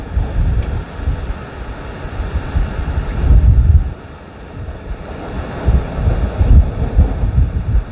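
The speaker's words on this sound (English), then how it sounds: "all day today the wind was just horrible" Strong stormy wind roars and buffets the microphone in loud, surging gusts, with deep rumbling swells rising and falling throughout and no voices.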